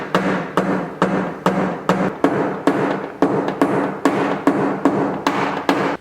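Hammer and knockdown tool tapping out a large dent in a car door panel, a steady series of sharp metallic knocks about twice per second, loud and close, with no voices.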